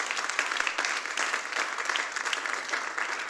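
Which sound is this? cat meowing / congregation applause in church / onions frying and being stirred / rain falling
congregation applause in church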